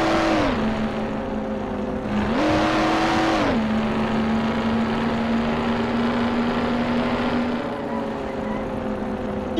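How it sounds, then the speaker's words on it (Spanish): A race car engine in a video game revs hard, its pitch climbing and falling twice before settling into a loud, steady high drone; no talking. "Claro, es que es un coche de carreras."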